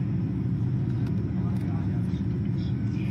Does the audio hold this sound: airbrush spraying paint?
no